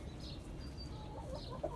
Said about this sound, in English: see, we got all the chickens in here. Mr. Rooster, hello, handsome.